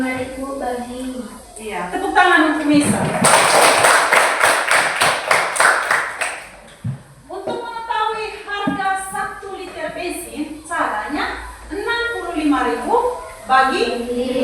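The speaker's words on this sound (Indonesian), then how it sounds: "tepuk tangan untuk Misa" Students in a classroom clap for a classmate in a brisk burst of applause lasting about three seconds, set between stretches of close, clear speech from a teacher and pupils.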